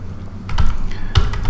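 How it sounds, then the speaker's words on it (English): Python code being typed on a computer keyboard, a run of close, loud key clicks in uneven bursts, with two heavier thumps like the space or enter bar, and no talking. "Let me start typing the Python code."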